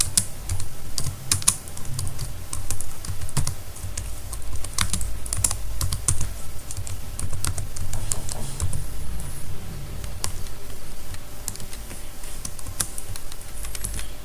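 Someone types on a computer keyboard while setting up a free blog website: a close, continuous run of quick key clicks with occasional heavier keystrokes, going on throughout without talking.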